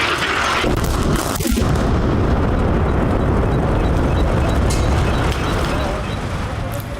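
Israeli airstrikes pound central Beirut in a dense, continuous roar of blasts and rumbling, loud and unbroken throughout, with sharper impacts standing out near the start.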